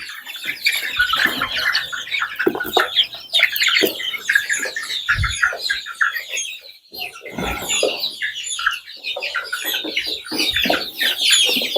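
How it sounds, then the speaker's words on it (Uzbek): Busy high-pitched clucking and squawking from a group of two-month-old chickens, continuous and close, with occasional sharper calls. "Mana jo'jalarimiz holatlari."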